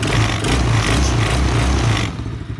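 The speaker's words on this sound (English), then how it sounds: "We just want to let it run a little bit just to warm up." A Venom gas-powered ATV engine idles steadily while warming up, a loud, continuous close-up chug with a rattling mechanical texture that drops off sharply near the end.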